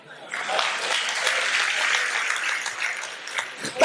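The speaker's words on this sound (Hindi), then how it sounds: "व्यंग पर आपकी तालियां चाहता हूं साहब" An audience at a Hindi kavi sammelan poetry gathering breaks into sustained, fairly loud applause that swells and continues for several seconds, with scattered voices mixed in.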